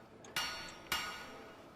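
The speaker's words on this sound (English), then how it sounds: "hear the sound of a hammer on an anvil. Rhythmically, and it gets louder" A hammer strikes an anvil in a fantasy forge setting, two bright metallic clangs about half a second apart, each ringing out and slowly fading, fairly quiet with no voices.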